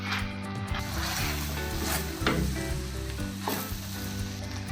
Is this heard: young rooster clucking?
no